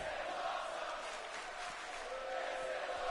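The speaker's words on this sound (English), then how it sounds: "This is awesome chant from the crowd" A virtual wrestling arena crowd in WWE 2K19 roars in a steady, dense wash of cheering and chanting, loud and continuous without pause.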